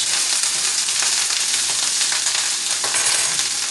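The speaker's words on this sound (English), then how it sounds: "I like to fry it up a little bit, have it like a fried up kind of taste on it, like some crispy pieces of cabbage" Cabbage frying in oil in a pan, a loud, dense, continuous sizzle with light crackling throughout and no voices.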